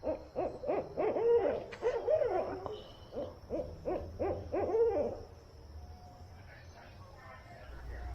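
Owls hoot repeatedly at night over a campsite in Florida, a run of rhythmic, moderately near calls that fade to quiet background after a few seconds.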